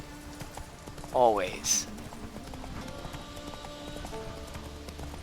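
Roach, the horse in The Witcher 3, clops along with steady hoofbeats under a voice, accompanied by a brief whinny-like cry and game sounds, the hooves rhythmic and moderately near.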